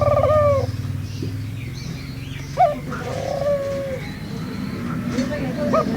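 Australian doves in breeding condition cooing, a pair calling with repeated soft, low coos and a few brief chirps, fairly close, while a voice talks over them.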